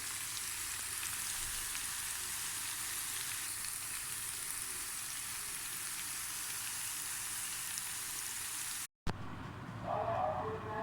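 Steady, even sizzle of coriander frying in a pan for shrimp molokhia, a constant hiss close by, ending with a short cut and a brief louder clatter.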